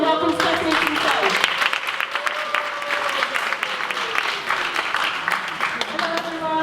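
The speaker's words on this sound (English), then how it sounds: "Can we please get a warm round of applause and welcome Stephanie to the stage." An audience at a talk on the science of Black hair claps to welcome a speaker onstage, sustained applause with a voice speaking over the clapping.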